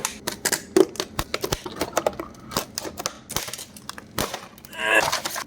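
Close, sharp snipping and crunching sounds in an irregular series as scissors cut open a package of Sparco pedals, ending with a crinkling rustle.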